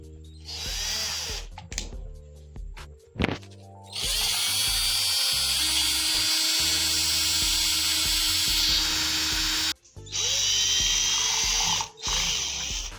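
A power drill whines loudly and continuously, boring holes in a fibre rod for a ceiling fan fitting, with brief pauses and restarts between runs.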